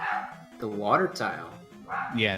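A dog barks and yips in the background of a live video-game marathon stream, short sharp calls mixed under ongoing conversation between commentators.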